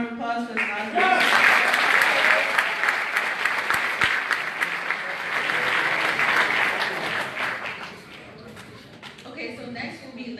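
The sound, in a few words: applause for the graduating class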